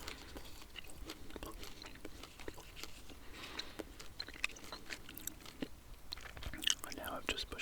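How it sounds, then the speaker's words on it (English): Soft, close-up wet chewing of a piece of peppermint PK chewing gum, a steady smacking and clicking that continues throughout, heard alone without speech. "pop that in my mouth and start chewing."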